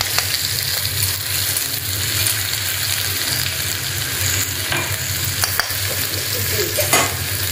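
Cardamom pods and ginger-garlic paste frying and being stirred in a pan in a Rajasthani village kitchen, giving a steady, close sizzle with scraping stirs throughout and no talk.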